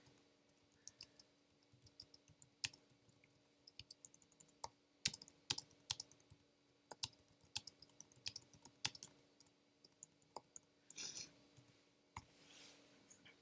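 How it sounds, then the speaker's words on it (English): Typing on a computer keyboard: irregular quiet clicks and taps, sometimes in short quick runs, with a brief rattling burst near the end, close and without talk. "now I can type in here"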